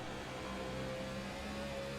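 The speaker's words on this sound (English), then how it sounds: "Listen to these RPMs here." A race car engine in a NASCAR racing video game at Dover holds high RPM, giving a faint, steady, tonal drone with no speech.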